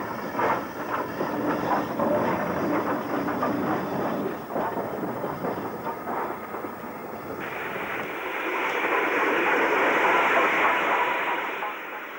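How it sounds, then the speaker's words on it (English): Maunsell U-Class steam locomotive 31632, built in 1928, runs light engine with a steady rumbling roar that swells and grows louder toward the end, without voices. "Maunsell designed U-Class number 31632, built in 1928, of Yeovil Shed, having had her empty stock removed, makes her way to Branksome"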